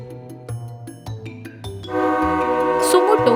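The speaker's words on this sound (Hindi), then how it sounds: "अब नीचे आ जा, ट्रेन ने हॉर्न मार दिया है।" A train horn blares, a loud sustained tone that swells in the second half over rhythmic thumping and music-like background, with no speech over it.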